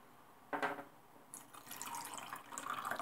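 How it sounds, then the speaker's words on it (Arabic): Warm water poured onto semolina dough in a home kitchen: a brief splash, then a steady trickling, splashing pour that grows slightly louder, close by, with no talking. "وندير الماء دافيه"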